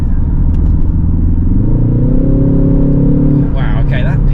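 A 2023 Ford Focus ST Estate automatic accelerates with a steady engine drone climbing in pitch through a gear, close and loud inside the cabin, with people talking over it.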